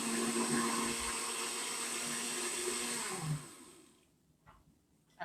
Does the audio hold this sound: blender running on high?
yes